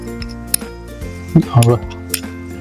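Clinks of a utensil against a plate as freshly crushed green chili thecha chutney is served, a few sharp taps scattered over a couple of seconds alongside soft scraping, with a faint voice in the background.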